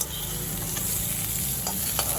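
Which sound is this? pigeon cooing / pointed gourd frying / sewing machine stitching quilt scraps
pointed gourd frying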